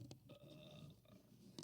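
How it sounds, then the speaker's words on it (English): A single burp from a person, heard close and fairly quiet, with a crackly, drawn-out croak and no talk around it. "Burp."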